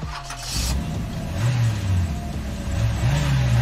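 Race cars in a Minecraft game starting up, engines revving and rising in pitch twice with a steady underlying engine rumble, close and fairly loud.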